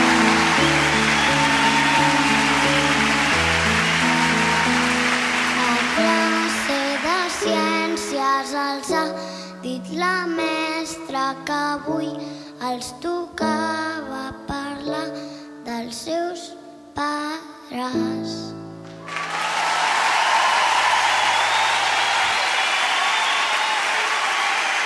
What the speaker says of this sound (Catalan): Un aplaudiment molt fort pel Jan Biosca